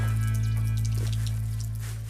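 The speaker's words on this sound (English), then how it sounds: "we spent time installing pipes so that people all around Africa can access water from spigots like this one in Nairiri" Water pours steadily from a well spigot in Nairiri, Africa, a continuous close splashing stream with no talk over it.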